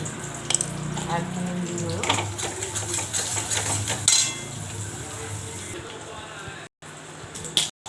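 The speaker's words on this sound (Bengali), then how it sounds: "এখন ডিমটাকে ভেজে নিচ্ছি" Egg frying in a pan with salt for an egg and potato curry, a steady broadband sizzle running throughout with occasional clinks and stirring, a voice speaking briefly over it.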